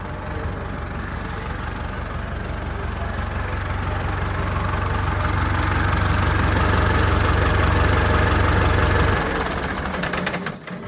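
A heavy diesel engine of a 1996 truck idles steadily up close, a deep low rumble with a knocking texture that drops in level near the end.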